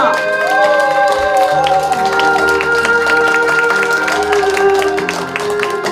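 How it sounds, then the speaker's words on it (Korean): A crowd at a comic variety show featuring a pumba singer breaks into sustained applause and cheering, a dense roar of clapping and shouts lasting several seconds, loud and continuous, with a sung or drawn-out tonal voice running over it. "여러분들께 박수와 함성 소리 한번 듣고 갈게요"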